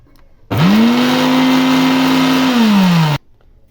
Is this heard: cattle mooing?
no